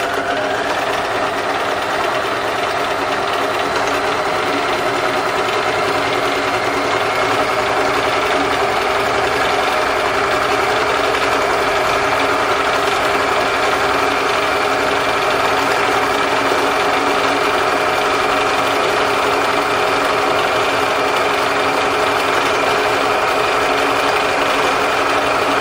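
A sewing machine runs continuously to work off excess oil after oiling, a steady mechanical whir with faint knocking, loud and close and unbroken for the whole stretch, with no talking.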